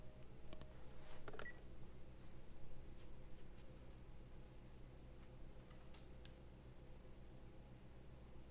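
Telephone keypad dialing tones from The Last of Us Remastered sound as a few faint, brief beeps over a quiet game backdrop, clustered early and again later in the stretch.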